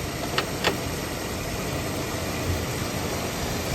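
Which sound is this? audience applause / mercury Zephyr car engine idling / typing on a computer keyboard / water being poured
mercury Zephyr car engine idling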